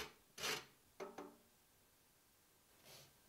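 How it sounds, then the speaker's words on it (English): Citrus zest rubbed against an old-fashioned four-sided grater gives a few short, faint rasping strokes with pauses between them, close and quiet. "This is an old-fashioned four-sided grater and it does the job perfectly."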